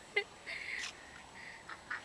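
A few short duck quacks, some faint and one sharper, scattered over a quiet background.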